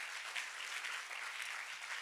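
A church congregation applauds, steady hand-clapping from many people spread across a room, sustained and fairly soft for two seconds with no break.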